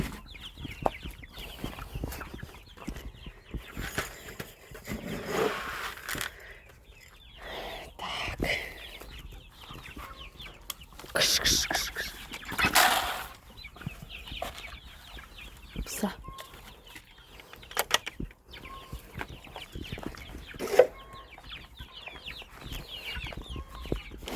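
Broody hen clucking among her chicks in a farmyard: soft, repeated clucks and scattered chick peeps, close by, with a person talking at intervals.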